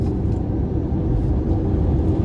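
A 2023 Ford Mustang Mach-E Premium E-AWD electric car accelerates hard with the pedal floored, giving a steady, loud, low rumble of motor and road noise throughout, with no talking.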